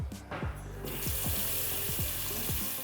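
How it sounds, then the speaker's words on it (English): Running water pours steadily into a pot from a tap, a close, continuous splashing rush with some clinking underneath. "Then you're going to top it up with some water."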